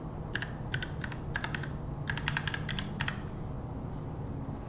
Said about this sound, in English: we're gonna type in Obliviverse